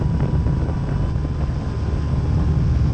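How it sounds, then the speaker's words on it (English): A radio-controlled J3 Cub model airplane revs up for takeoff, its small motor droning loudly and steadily under heavy wind buffeting on the microphone, with no voices. "Elevator, rudder, ailerons, J3 Cub taking off"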